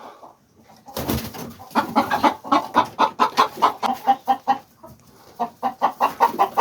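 Chickens clucking inside a farm coop, a close run of short rhythmic clucks repeating steadily after a brief quiet start, with a short pause before the clucking resumes.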